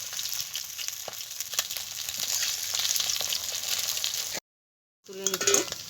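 Rui fish pieces sizzle steadily in hot oil as they are turned, a close, moderate crackling hiss with small clicks, broken by a brief silence and then a short spoken remark.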